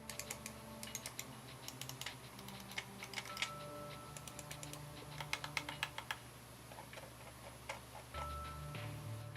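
Mouse buttons clicked repeatedly during a side-by-side test of gaming mice including the SteelSeries Rival 100, Roccat Kiro, Logitech G303, Razer Abyssus and Rapoo V300, giving sharp close clicks in irregular bursts over a steady background hum.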